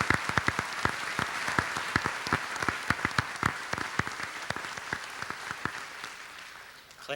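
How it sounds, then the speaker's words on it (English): A high school commencement audience applauds at the Class of 2011 graduation ceremony. Sharp, distinct claps come in a lively, steady rhythm from a fairly close crowd and taper off slightly toward the end. "Let's give him a round of applause."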